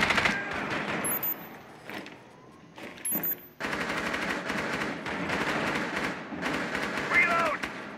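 Rapid automatic gunfire bursts repeatedly in Rainbow Six Siege on the Kafe Dostoyevsky map, loud close volleys broken by short pauses, with players talking over the shooting.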